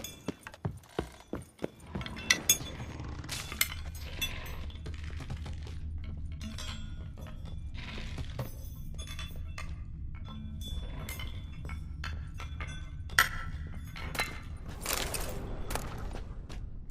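Light metal spoons clinking and rattling in the fantasy role-playing video game The Witcher 3: several sharp clinks at the start, then sparse scattered taps over a low ambient hum.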